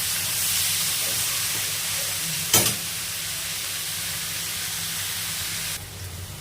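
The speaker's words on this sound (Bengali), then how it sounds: "আলুগুলো দিয়ে এবার ভালো করে নাড়াচাড়া করে নিয়ে" Potatoes and onions stir-fry in a hot pan with a steady, close sizzle throughout, and a single metal clank of the stirring spoon comes about midway through.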